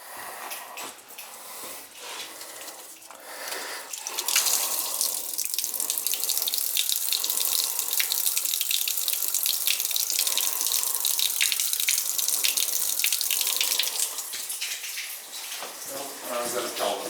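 Water runs steadily from an old laundry tray sink with a bad leak, a continuous hissing flow that grows louder and stays strong through most of the stretch before easing slightly near the end.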